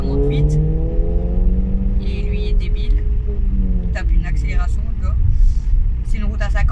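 A car accelerates nearby with a rising engine rumble and revving harmonics, heard under steady speech throughout.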